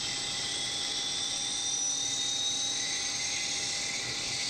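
Jetstream J41 turboprop engine in the FSX flight simulator spooling up, a steady rising whine with a bright high tone over a broad roar, moderately loud and alone.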